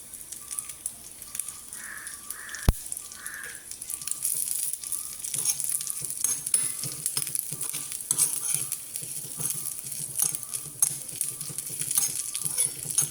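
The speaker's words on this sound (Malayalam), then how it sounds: "കടുക് പൊട്ടുമ്പോഴത്തേക്ക് തേങ്ങ മൂക്കും" Crushed coconut and mustard seeds fry in a pan with a steady close sizzle, dotted with small sharp pops and crackles throughout.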